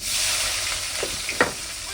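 Curry leaves and onion hit hot oil for a fish curry with a bright, hissing sizzle, steady across the moment, plus a brief murmur of a voice over it.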